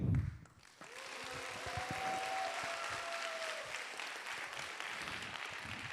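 A university festival audience applauds to welcome professors at a student council talk show, a sustained wash of clapping from a crowd that starts after a brief voice and holds steady throughout.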